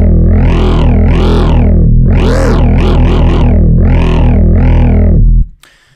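A loud, distorted sync growl synth bass patch built in Reason growls and wobbles through a sweeping filter in rhythmic bursts, then cuts off abruptly into near silence.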